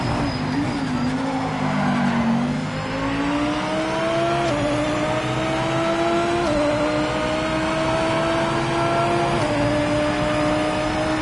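Race car engine in the Project Motor Racing video game, a steady loud drone with rising and falling pitch as it upshifts through gears, continuous with no pauses.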